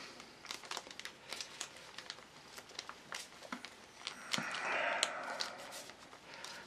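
Paper origami sheet being folded into blintzed crane creases, giving close, steady crinkling and crumpling with sharp crisp snaps scattered throughout and a louder rustling swell near the end.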